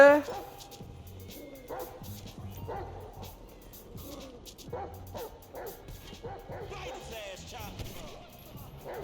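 A dog in GTA 5 story mode barks and yips in short repeated bursts, fairly close, while people talk and react over the game sound.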